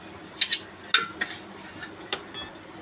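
A metal plate is set down over a pan of dal on a lit gas stove, making a few sharp close clinks and scrapes of metal on metal, spaced irregularly against a quiet kitchen background.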